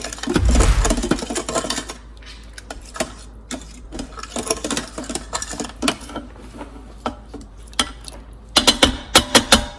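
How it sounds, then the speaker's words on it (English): A food masher crushes cooked tomatoes in a pot for tomato rasam, giving a heavy thud at first and then steady clicking, squishing strokes, with a burst of sharper, louder knocks at the end. "So we need any food masher to crush the tomatoes."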